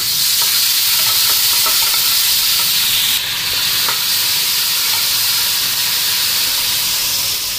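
Boal fish frying in a pan, producing a loud, close, continuous sizzle and hiss that holds steady throughout, with a few faint utensil taps; no talk.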